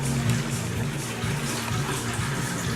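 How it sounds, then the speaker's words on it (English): Steady rushing water pours into a toilet tank with a low, constant hiss and gurgle, close by and unbroken for the whole stretch. "There's no sound, except for water flowing into the tank."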